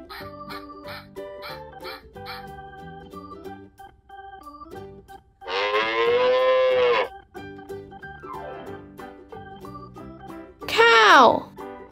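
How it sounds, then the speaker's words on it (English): A cow moos in two long, drawn-out calls, the second shorter and louder, set among steady background sounds and brief vocal noises. "Cow."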